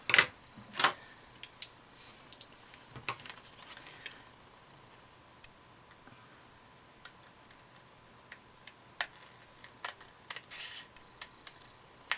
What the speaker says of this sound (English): So I'm gonna get these scissors and trim around here.